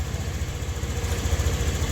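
A Honda Click scooter engine idles while warming up, with the engine stalling as a fault. It gives a steady, close, low throbbing putter with even pulses and no talking.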